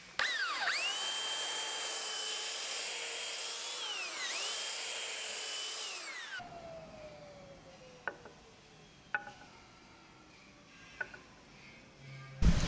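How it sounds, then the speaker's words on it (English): A belt sander works oak drawer dividers, its loud motor whine rising and falling in pitch for about six seconds before cutting off. A few faint knocks and taps follow in the quieter room. "So once you're there, you can just belt sand that off."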